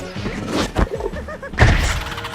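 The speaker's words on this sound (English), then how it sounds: "Oops, stepped on another potato mine." A potato mine in the video game Plants vs Zombies Garden Warfare detonates as a short, heavy thump amid game noise and a commentator's talk, followed by a second burst of crunchy impact sound.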